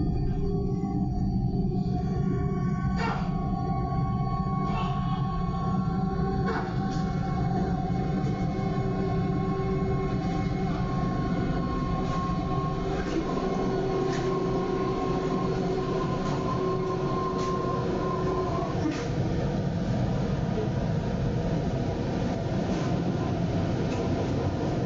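A Sydney train runs on its rails with a loud, continuous rumble that lasts the whole time. Faint metallic wheel squeals and tonal whines rise and fade over it.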